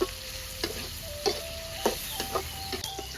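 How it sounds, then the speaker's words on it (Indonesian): Sambal of chili with shallots and garlic sizzles steadily in a pan, with periodic scraping stir strokes roughly every half second, close up and alone without talk. "Goreng sambelnya"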